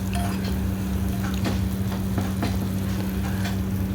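Mustard seeds and spices sizzle in hot oil for a pav bhaji tempering. A continuous frying hiss runs throughout, with scattered sharp pops and light utensil clinks over a low steady hum.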